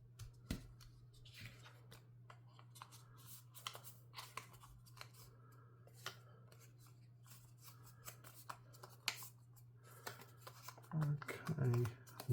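Scissors snip off a paper tag with small, close crisp cuts scattered through, ending in a louder cluster of snipping and paper rustle, while a voice talks quietly under it.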